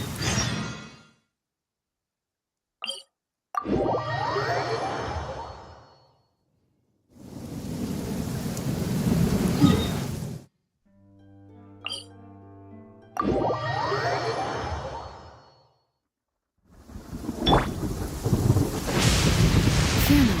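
Thunder in the Genshin Impact video game, several long, loud rumbling bursts separated by silent gaps, mixed with game effects and brief tonal chimes.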